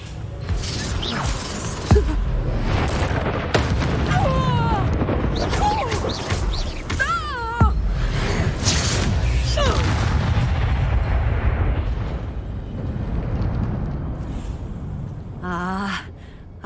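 Spell blasts and explosive impacts burst repeatedly in Hogwarts Legacy combat on PS5. Booms and crashes are layered over continuous game audio, and voices shout throughout.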